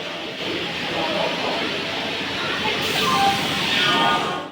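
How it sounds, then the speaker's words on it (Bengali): A Katwa local train pulls out of Howrah station. A broad, steady rumbling hiss of the moving train fills the platform and holds at a fairly loud level throughout. "তো এই তো কাটোয়া লোকাল ছেড়েও দিল"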